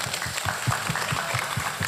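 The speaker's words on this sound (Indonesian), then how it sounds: "tepuk tangan" Light, scattered clapping from an audience at a religious gathering, a brief rhythmic patter of hands heard at moderate distance.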